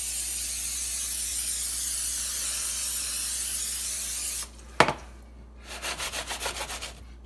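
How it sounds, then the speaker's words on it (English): Olive oil spray hisses in a long steady burst over meatballs, then stops, followed by a quick clack and a series of short, rhythmic spritzes. "A little olive oil spray."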